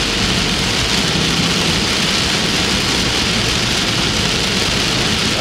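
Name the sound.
heavy rain from tropical storm while driving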